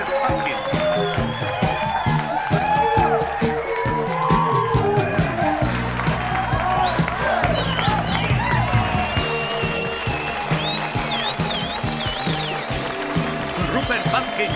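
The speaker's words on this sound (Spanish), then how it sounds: "Un aplauso para Rupert Pupkin." A crowd applauds and cheers continuously, with a person talking loudly over the noise.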